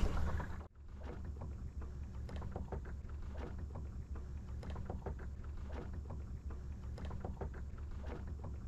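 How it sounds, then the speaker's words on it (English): A homemade electric camper boat moves at a couple of miles an hour, with water rushing steadily beneath its hull in a continuous, even wash and small splashy ticks throughout, with no voices. "You can actually hear the water going underneath the boat."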